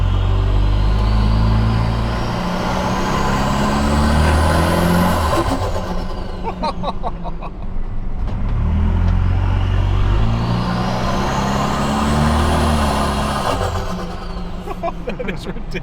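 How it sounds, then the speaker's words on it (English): Breathing through a pod filter intake, a car engine on a dyno revs loudly in two long pulls, each climbing to a high whine before dropping back, with voices talking in the gaps. "The pod filter sounds more like JDM, eh?"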